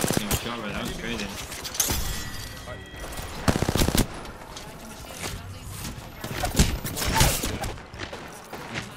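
Bursts of automatic gunfire and scattered single shots ring out in an Apex Legends match, loud and close with uneven gaps between volleys, while voices talk over the action.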